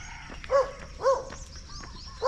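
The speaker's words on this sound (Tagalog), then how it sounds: "Yan, wag kang tahol-tahol yan." A dog near a deep creek on a walk toward Hagonoy Bridge gives a few short barks at a steady pace, moderately close, over quiet outdoor background.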